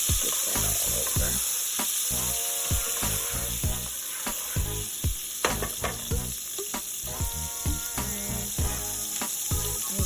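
Butter sizzles and crackles steadily in a hot pan while oxtails are being cooked, a loud close frying hiss with scattered pops and some stirring scrapes throughout.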